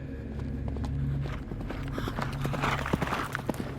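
Horse hooves clip-clop in a steady walking rhythm as an audiobook sound effect, with a crisp run of hoof strikes at close range and a faint low background beneath.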